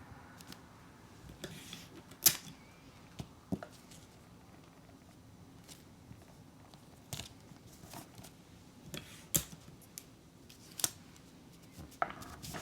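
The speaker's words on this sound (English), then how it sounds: "I'm just going to cut off this excess paper" Scissors snip away excess sublimation paper around a patch, with short, quiet cutting clicks spread irregularly, a few sharper snips standing out against a faint background, and no speech.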